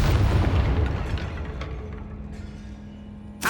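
A Depulso spell in Hogwarts Legacy lands as a deep, booming blast that rolls off and fades over a few seconds, followed by a faint hum and a sharp snap at the end.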